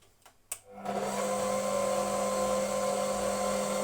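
An electric mixer whirs up to a steady, loud, high-pitched drone after a couple of clicks as it switches on, then runs continuously, mixing dough for pies.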